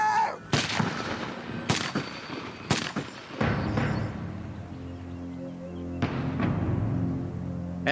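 Several loud, sharp gunshots ring out at irregular intervals, each ending in a rumbling echo, with a lingering low roar between them.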